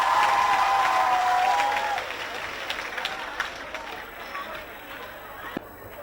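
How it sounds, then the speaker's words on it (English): Crowd clapping and cheering at a school awards event for young cheerleaders, with a loud opening wash that drops after a couple of seconds into sparser claps and murmur; a high whistle-like tone sounds early. "Let's give a huge round of applause to our young cheerleaders."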